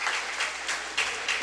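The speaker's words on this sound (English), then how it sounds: "Coach Irby applauding her team." A crowd applauds in a high school volleyball gym after Lorain scores against Garfield Heights, a steady wash of clapping that swells in brief bursts.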